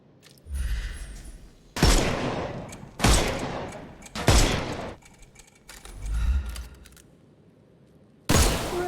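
Gunshots in the Sherlock Holmes Chapter One video game: about six loud, separate blasts spaced roughly a second or more apart, each with a sharp crack and a low rumbling tail, with no talking.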